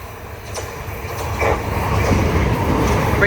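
A train runs through a suburban station on the Brighton Main Line at South Croydon without stopping, building into a loud, steady rumble of wheels and carriages with rhythmic clicks and a faint squeal, no voices.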